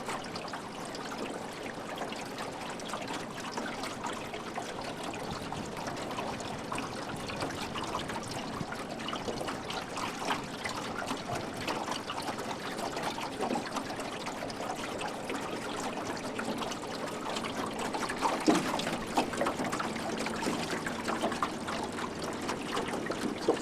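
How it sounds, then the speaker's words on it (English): Gentle water lapping and trickling at the shore of Beaver Lake near a public beach, a steady soft wash that continues throughout with a slightly fuller surge near the end. "So we're looking now over at Beaver Lake, where the public beach is just to the right"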